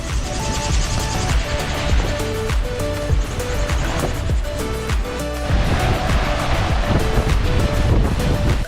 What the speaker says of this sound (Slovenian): Prihajamo na odprto, že začenja bolj pihati.